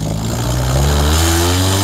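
A modified car's exhaust revs up close by, the engine note climbing and rasping loudly for a couple of seconds with no talk over it.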